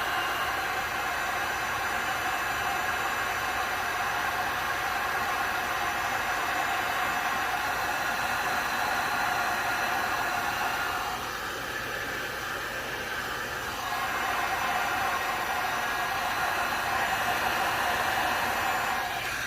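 A hot air tool blows on high fan at low to medium heat, a loud, constant whooshing roar that holds steady for nearly twenty seconds, dipping slightly once midway, with no speech.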